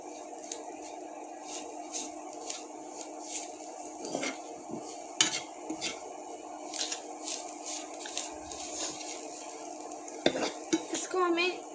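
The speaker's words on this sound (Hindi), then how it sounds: "इसे हमें थोड़ी देर फ्राई करना है जब तक कि हमारा बेसन जो है वो पूरी तरीके से भून नहीं जाता" Onions fry with gram flour in a pan, stirred with a utensil that scrapes and taps irregularly against the metal over a soft continuous sizzle, close up.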